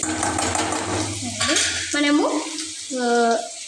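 Ginger garlic paste frying in a pan crackles under a spatula stirring and scraping, with a few sharp metallic utensil clinks against the pan near the end, close up and without talk.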